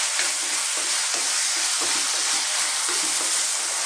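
Ground beef (giniling) browning in a pan sizzles and fries with a dense, steady hiss, loud and close, with faint stirring scrapes underneath.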